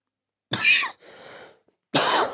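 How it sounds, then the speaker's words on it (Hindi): Two sharp coughs close to the mic, separated by a softer raspy breath, then silence. "यहाँ पे देखिए खांसी भी थोड़ी हमको हो गई है।"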